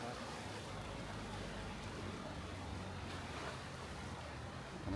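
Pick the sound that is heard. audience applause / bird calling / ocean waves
ocean waves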